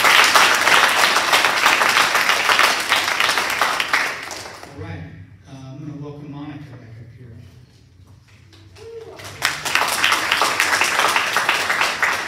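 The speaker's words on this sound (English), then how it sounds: "So if we could we give Chris a round of applause?" An audience at a student awards celebration breaks into loud, dense applause that fades to a quieter lull with a voice speaking, then swells back into full, close clapping.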